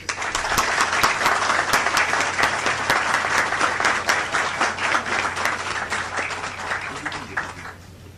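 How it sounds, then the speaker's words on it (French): Audience applause for an architect at a ceremony, loud, close and sustained clapping from a crowd, with sharp individual claps standing out, easing off near the end. "Je demande à l'assistance de l'applaudir."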